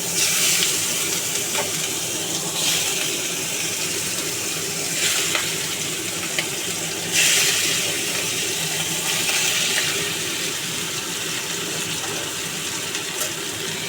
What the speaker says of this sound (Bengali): তেলটা গরম হলে ইলিশ মাছ ভাজবো